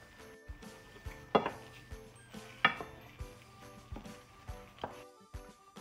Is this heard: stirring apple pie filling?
yes